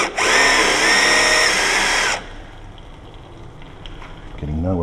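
A power drill drives self-drilling metal screws into a lock fitting on a locksmith's install job. The drill whines loudly for about two seconds, then cuts out to quiet handling, and a voice speaks at the end.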